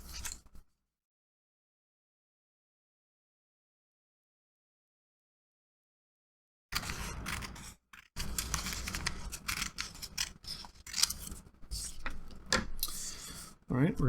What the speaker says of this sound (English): All of this excess here, we're just going to cut off.